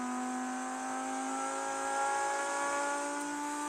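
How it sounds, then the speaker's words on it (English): Steady engine drone with a smooth, humming exhaust note from a four-wheel-drive car in BeamNG.drive, holding a constant pitch and rising slightly in the middle, no voices. "And also the exhaust sounds better."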